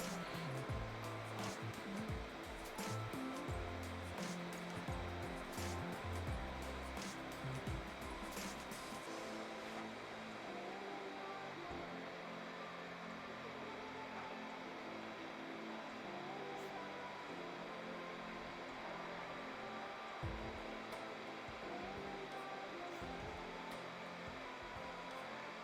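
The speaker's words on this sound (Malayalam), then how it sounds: "ഉള്ളി നന്നായിട്ടൊന്ന് ഫ്രൈ ചെയ്തെടുക്കാം." Sliced onions fry in coconut oil and ghee for Kerala-style prawn biryani, a continuous dense sizzle and crackle held at a steady level throughout, close and without speech.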